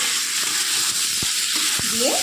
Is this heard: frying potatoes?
yes